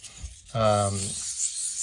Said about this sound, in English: So when you're sanding, you want the paper to do the work.